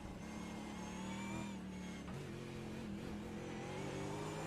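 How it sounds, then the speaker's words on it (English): V8 Supercars engines in a sim racing game at Circuit Zandvoort roar steadily with shifting pitch as they rev and change gears, continuous and close, with no voices. "Please enjoy the sound of the cars."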